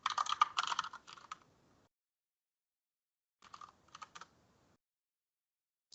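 Fingers tap out a password on a computer keyboard in two quick bursts of clicky keystrokes, separated by a pause of silence, with a final faint tap at the end.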